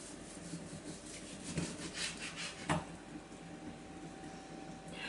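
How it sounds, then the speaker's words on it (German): Knife sawing back and forth through a braised beef roast, soft rasping strokes close up with a couple of firmer cuts, fairly quiet and without talking. "Und jetzt schneide ich einmal gleich das Bürgermeisterstück an"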